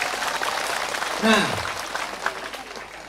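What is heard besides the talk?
audience applause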